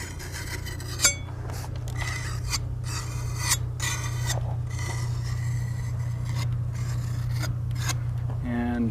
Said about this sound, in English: And this one I'll finish off with this trowel, or at least initially scrape off the edges.